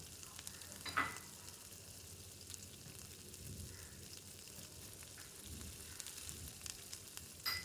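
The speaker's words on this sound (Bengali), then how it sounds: "তেল ছাড়ছে মানে জিনিসটা কষানো হচ্ছে ঠিকঠাক।" Katla fish head mixture sautéing in oil in a pan for a Bengali chachori, a soft continuous sizzle and frying crackle with occasional stirring scrapes, close but quiet, no talking.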